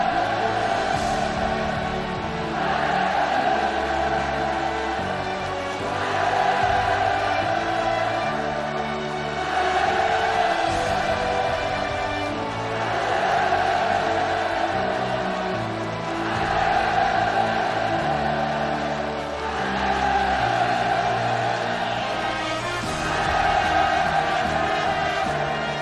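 Construction workers at a greenhouse farm building site in Sinuiju cheer for Kim Jong Un in repeated swelling waves of massed shouting, a broad distant-sounding roar that rises and falls in regular surges.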